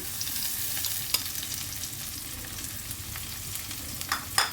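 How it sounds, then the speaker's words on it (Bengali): Steady sizzling of carrot and capsicum frying in a pan, with a few sharp clicks of a utensil stirring and scraping near the end. "গাজরটা হালকা ভাজা হচ্ছে, অ্যাড করে দিলাম ক্যাপসিকাম"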